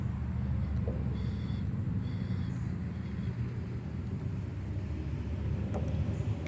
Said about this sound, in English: Although some of these cars are kind of noisy.